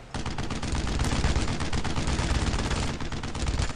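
Loud, sustained machine-gun fire from the World War II shooter Brothers in Arms: Road to Hill 30, rapid overlapping bursts of shots hammering without pause, close and dense throughout.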